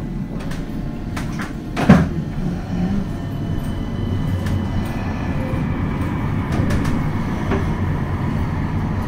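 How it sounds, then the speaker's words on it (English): Low rumbling West Midlands Metro tram noise with a door-like thump near the start, then a steady mechanical drone as the tram moves off from a stop. "Please hold tight. This tram is about to depart."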